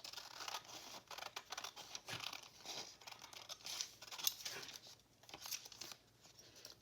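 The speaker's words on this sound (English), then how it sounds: "let me trim this out" Scissors trim through paper in a craft setting, producing a quiet run of quick snips and crinkly cuts in an uneven rhythm, with no talking.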